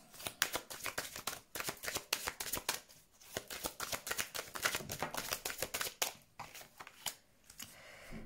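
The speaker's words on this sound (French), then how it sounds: "Allez, on prend quelques cartes pour le domaine relationnel." Tarot cards are shuffled and drawn by hand in a quick, soft flurry of riffles and snaps that rises and eases, close and fairly quiet, with no voice.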